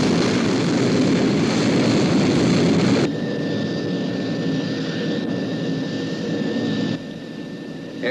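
Steady, loud aircraft engine drone for the Sky One craft in a 1970s science-fiction TV series, heard alone, with the roar dropping slightly in level around the middle and again near the end.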